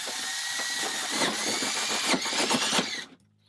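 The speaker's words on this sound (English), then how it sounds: "Now that you already have a pilot hole, put it there and you're ready to drill your hole." A power drill bores a hole during a Shower Miser install, a steady loud whine with gritty cutting texture for about three seconds before stopping abruptly into near silence.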